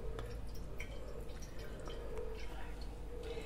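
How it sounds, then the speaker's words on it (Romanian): Water is poured into a pot for a traditional bean dish with smoked ham hock, a close, steady stream of dripping and splashing liquid with a faint voice in the background. "Acum punem apă"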